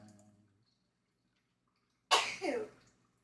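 A single loud sneeze close by after a stretch of near silence, with a brief trailing exhale and faint voice just before.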